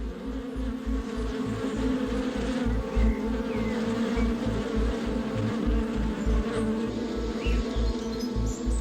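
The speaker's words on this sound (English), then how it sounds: "bees don't make it back to the hive and die along the way" Bees buzz steadily and densely, a continuous close swarm drone that stays loud throughout, with no voices.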